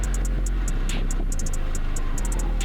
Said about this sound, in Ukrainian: Ми можемо чути незначне поцопування насосу та звук виходу повітря.